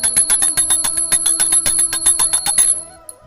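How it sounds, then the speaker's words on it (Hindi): A temple hand bell rings for Laddu Gopal's morning puja: a fast, even run of about twenty bright strikes, close and clear, then it stops and the tone fades. "तो चलिए थोड़ा सा घंटी का नाद कर देंगे श्री मंदिर में।"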